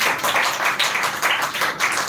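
An audience at a spoken-English speech contest claps for a speaker, a steady, moderately loud patter of many hands that carries on without pause.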